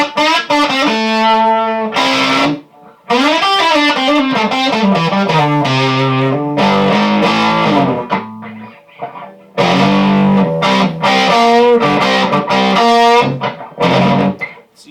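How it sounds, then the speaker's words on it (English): Electric guitar through a Frugal Amps Phat Champ amplifier at gain 4, loud distorted chords and riffs ringing with sustain, broken by a few short pauses. "what does increase is the amount of distortion and sustain"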